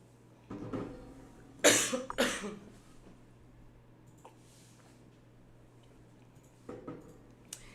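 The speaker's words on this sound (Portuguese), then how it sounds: "Vai começar a tosse" A person coughs a few times close by, a cluster of harsh bursts followed by a quiet stretch and a softer cough near the end.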